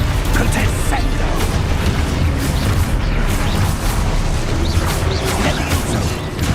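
Spell blasts and explosions in the video game Hogwarts Legacy form a dense, continuous barrage of booms and crackling bursts, loud and unbroken, with voices shouting in the mix.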